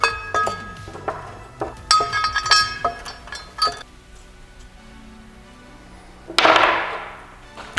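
A metal cover plate goes back on over its gasket during a CD009 to JK40 transmission rebuild, giving a series of sharp metallic clinks and taps, then a louder scraping clatter near the end, with no talking.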